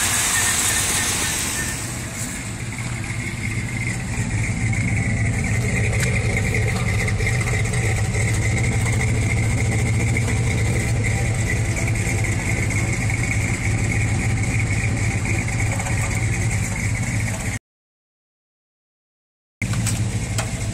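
A freshly rebuilt 350 small-block V8 in a Chevy Silverado idles slowly with a steady, low rumble and loud mechanical whine. It runs continuously up close, then cuts to a brief silence before resuming.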